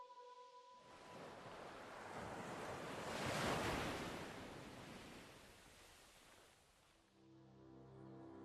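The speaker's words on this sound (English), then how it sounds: "Vice City has this ocean theme with the wave sounds" Ocean waves in the GTA Vice City video game intro swell into a loud, hissing surge of surf, then slowly recede, with faint tones at the start and end.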